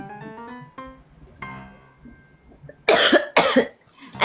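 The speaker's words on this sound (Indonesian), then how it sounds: "aku lagi batuk" A young child coughs twice, two harsh, loud bursts close by that follow a stretch of voiced speech.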